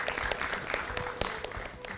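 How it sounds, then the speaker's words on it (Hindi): A small group claps, a quick patter of hands that keeps going for a couple of seconds, fairly close, with no talking over it. "तालियां।"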